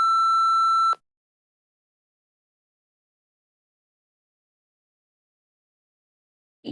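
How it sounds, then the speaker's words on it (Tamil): A steady electronic censor beep sounds for about a second, then cuts off into near silence. "நம்ம ஏன் அந்த பீப் சவுண்ட் போடுறோம்"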